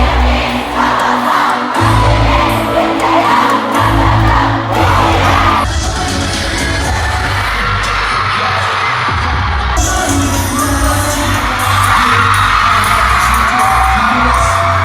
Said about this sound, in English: The fans were screaming and singing